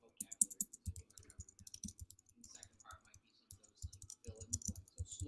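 A computer mouse and keyboard give off a run of crisp, close clicks in quick irregular bursts, quiet and dry, with pauses in between and no talking.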